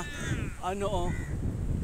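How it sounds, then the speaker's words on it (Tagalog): A crow caws in Saudi Arabia, a short burst of harsh calls heard at a moderate distance over a low background murmur. "mga uwak dito kasi mas maraming uwak na dito."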